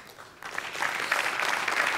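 An audience on the Marathi comedy show Maharashtrachi Hasyajatra bursts into applause. It starts quietly, then swells within half a second into a loud, sustained roar of clapping that holds to the end.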